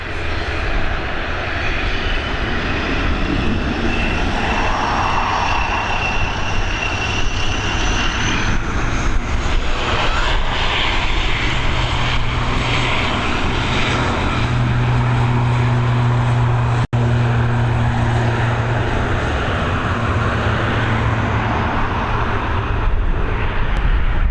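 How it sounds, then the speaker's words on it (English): An Aer Lingus ATR 72-600 turboprop climbs away from Dublin Airport's runway 28L in the evening, a loud, sustained propeller-and-engine roar that swells and shifts in pitch as it passes, with no voices. "this ATR 72600 series aircraft with the oldest of the Aer Lingus liveries, heading over to Edinburgh."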